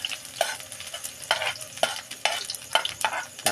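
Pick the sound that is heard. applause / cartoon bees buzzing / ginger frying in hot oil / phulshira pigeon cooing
ginger frying in hot oil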